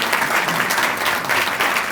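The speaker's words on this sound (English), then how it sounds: "that deserves a round of applause" Guests at a volunteer recognition reception applaud an honoree knighted by the French government, a brief burst of dense, even clapping from a sizable room.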